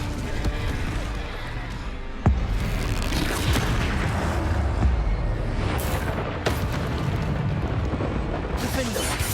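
Spell effects cast in the Hogwarts Legacy video game, a dense run of whooshing blasts and booming impacts with a sharp crack near the start and another later, loud and continuous with no voices.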